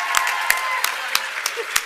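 A convention hall audience applauds, a dense steady wash of clapping from a large crowd with a few sharper claps standing out, and nobody talks over it.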